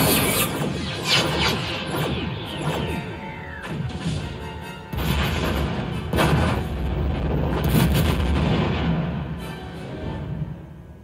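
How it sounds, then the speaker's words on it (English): A starship fires quantum torpedoes at a planet's surface in sci-fi combat, a run of loud crashing blasts and booming impacts with rumbling debris between them. "Mr. Worf, quantum torpedoes"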